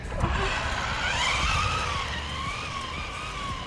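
An SG 1604 drifting RC car skids across a surface with a continuous high tire squeal and whirring motor that rises and wavers in pitch, fairly loud and steady over outdoor noise.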